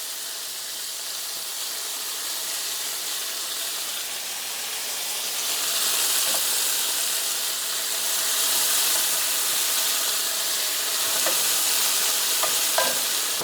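Tempeh sears in a pan with a steady broad sizzle that grows a little louder midway, marked by a few faint clicks of a utensil near the end. No one speaks.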